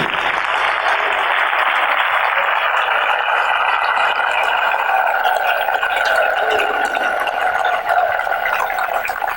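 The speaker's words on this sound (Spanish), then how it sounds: "Dele palmas al Rey." A church congregation applauds steadily throughout, a dense, continuous roar of clapping that stays loud from start to finish with no speech on top.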